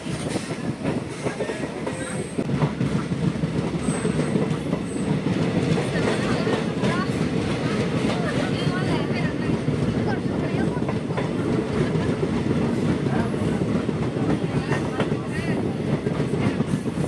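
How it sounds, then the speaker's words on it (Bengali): DEMU passenger train, number 07684 on the Agartala–Sabroom route in Tripura, departing after a halt and running on rails: a continuous close rumble with rhythmic clickety-clack of wheels over joints and occasional faint squeals. "2 মিনিটের অফিসিয়াল হল্টের শেষে 11:41 ট্রেন তার পরবর্তী গন্তব্য এবং ত্রিপুরা রাজ্যের অন্যতম ট্যুরিস্ট ডেস্টিনেশন উদয়পুরের উদ্দেশ্যে রওনা হলো।"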